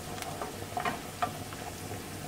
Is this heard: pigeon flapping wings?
no